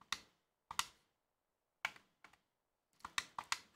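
Computer keyboard keys are pressed in short, crisp clicks: two quick taps, a pause, a pair more, then a rapid cluster of four or five, close and fairly quiet with no voices.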